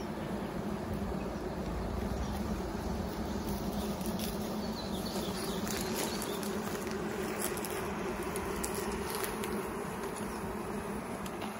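A dense, continuous buzz of many honeybees droning at a hive, steady and close, with faint scattered ticks on top.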